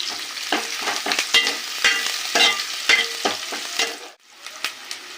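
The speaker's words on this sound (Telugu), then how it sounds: "ఇవి కొద్దిగా వేగినాక మనం టమాటాలు వేసుకుందాము. చూడండి ఫ్రెండ్స్, వేగుతుంది." Food fries in a pan before tomatoes go in: continuous crackling sizzle with stirring scrapes, close and fairly loud, no voices.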